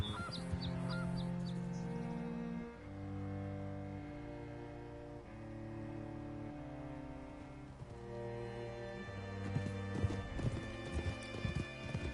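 Horse hooves clip-clop steadily in a video game, a ridden horse plodding along under a continuous bed of layered game music, with no talking.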